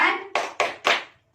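Four sharp hand claps in quick succession from children playing a rhythmic clapping game, each ringing briefly, the first blending with a voice as the rhythm ends.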